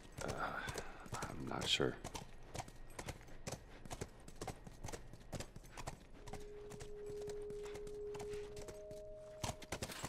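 Horse hooves clip-clopping on hard ground in The Last of Us video game, a steady walking rhythm of crisp hoof strikes continuing throughout, with a brief spoken line near the start and a faint tonal hum later.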